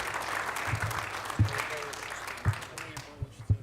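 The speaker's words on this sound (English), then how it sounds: "Thank you all for your applause." Applause thinning out at a Linden city council reorganization meeting, scattered claps and a few sharper hits continuing while a voice talks over the tail end.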